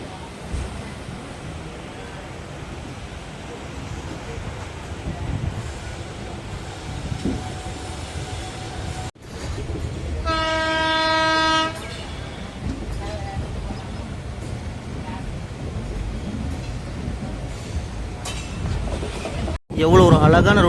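A passenger train between Mannargudi and Mayiladuthurai rumbles steadily along the tracks with a continuous low roar, a horn blaring briefly partway through, and occasional voices nearby.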